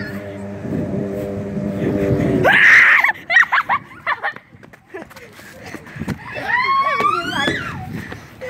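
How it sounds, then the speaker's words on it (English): Person screaming during a game of hide and seek, a long rising cry followed by shorter yelps and vocal bursts, with people talking close by. "Shh, you hear him screaming."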